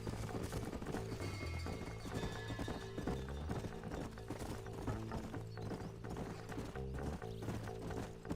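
Horse hooves clip-clop steadily in the Red Dead Redemption video game, an even trotting rhythm under dense, loud game music and ambience.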